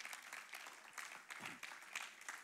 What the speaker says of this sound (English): that'd be a great time for a huge clap offering